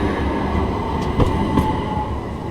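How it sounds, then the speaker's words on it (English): A tram rolls past on an Istanbul street, close and loud, a steady heavy rail rumble with brief metallic clicks from the wheels. "This is a tram."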